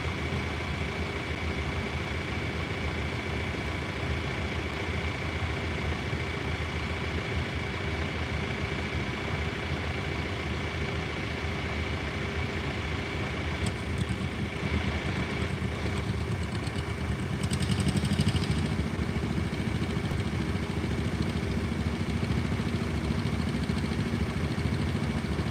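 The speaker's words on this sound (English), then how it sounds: "coming down the track is Matt Price. That is definitely not Sid Smith. So we have Matt Price in the 1950 John Deere A" A 1950 John Deere A tractor at a tractor pull runs with a steady, continuous engine drone for over twenty seconds. It is moderately loud and swells slightly partway through, with no talk over it.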